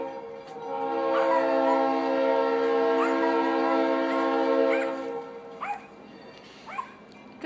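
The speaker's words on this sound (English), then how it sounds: "Here comes the train." A passing train sounds a long, loud, steady multi-tone horn for several seconds, then the horn fades, a dog barks a few times and people talk nearby.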